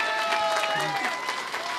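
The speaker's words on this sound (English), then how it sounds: "Give her a big round of applause." Audience at a convention panel breaking into steady, dense applause that holds throughout, with a voice speaking over the clapping.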